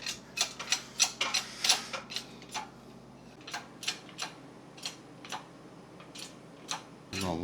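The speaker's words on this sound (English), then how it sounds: "we'll take it over to the press and finish pressing it in" A press drives a bearing into a boat trailer hub through a wooden block, producing a series of close, crisp mechanical clicks and creaks in an irregular rhythm that slows and spaces out toward the end.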